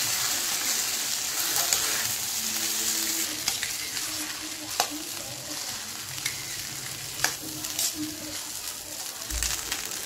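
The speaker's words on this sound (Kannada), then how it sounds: "ಈಗ ಚೆನ್ನಾಗಿದ್ದನ್ನು ಮಿಕ್ಸ್ ಮಾಡಬೇಕು." Spiced leftover rice with chilli powder stirred in a pan for Laal Bath, giving a steady close sizzle with scraping spoon strokes and a few sharp clicks.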